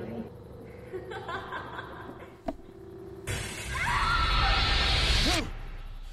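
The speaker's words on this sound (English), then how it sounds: "And something smashed through the window." A window smashes in The Walking Dead Telltale game, a sudden loud burst of shattering glass with scattered shards crashing for about two seconds; a voice and chuckling come before it, with a scream near the end.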